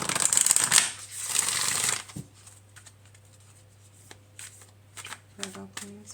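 Work Your Light Oracle cards being shuffled in quick riffling bursts for about two seconds, followed by quieter handling and a voice speaking.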